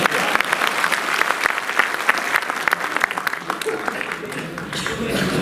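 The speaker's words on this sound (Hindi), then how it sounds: "ओके, ताली बजा दीजिए आप।" A crowd at a stage event with a government minister addressing railway employees claps loudly and continuously, with scattered voices and chatter mixed into the applause.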